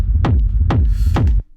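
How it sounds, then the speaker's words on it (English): A kick drum isolated from a house drum loop thumps three times at an even, steady pulse, deep and punchy, then cuts to near silence. "So I'm just gonna grab the kick, drop it here."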